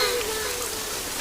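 Steady rain falls in Hyderabad, a continuous even hiss of drops across the whole moment with no distinct separate events, moderately loud and close.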